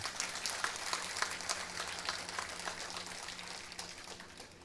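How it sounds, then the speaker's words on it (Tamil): Dense, steady audience applause at a book fair comedy speech fills the whole stretch, a broad wash of many hands clapping at once with no voices over it. "ரொம்ப பலமாக ஒரு கைத்தட்டல் கொடுங்களேன்"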